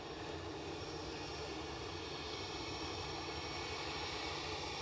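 An SAS airliner taxiing at Edinburgh Airport gives off a steady, moderate engine hum and whine from a distance, even and unbroken for the whole stretch.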